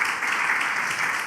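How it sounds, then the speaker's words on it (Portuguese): A church congregation claps together during a sermon, a dense, steady wash of applause filling the space at fairly close range and holding even throughout, with no voices standing out. "estas palmas louvam ao Senhor."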